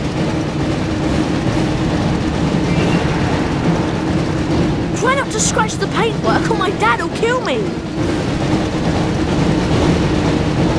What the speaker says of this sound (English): try not to get hit by the train. To stay ahead of the train